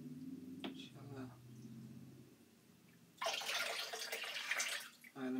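Tap water runs loudly into a sink while a cat is rinsed, a strong steady rush that starts partway through after quieter handling noises and low talk, then cuts off near the end.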